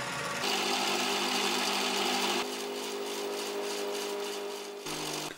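A milling machine with a dividing head cuts a pattern into the edge of a metal part for a hydraulic jack, a steady whirring motor drone with a pitch shift midway and a brief change near the end, no speech.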